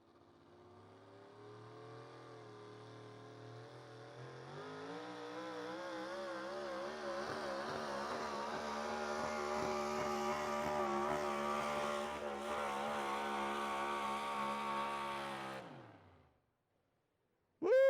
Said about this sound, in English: Here comes the Iowa tractor.